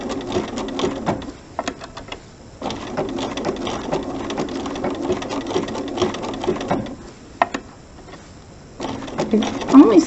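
A sewing machine stitches appliqué onto fabric in rapid bursts of mechanical clatter, pausing briefly between runs, close and fairly loud.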